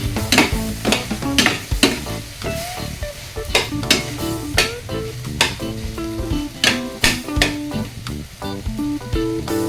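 Mixed vegetables and pork sizzle in a frying pan while a utensil stirs and scrapes them in quick, repeated strokes over a constant crackle, loud and close.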